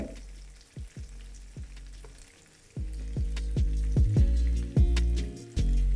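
Latha fish frying in a pan with a loud, steady sizzle, interrupted by several sharp crackles and bursts of spitting oil that grow denser and louder partway through, with no one talking.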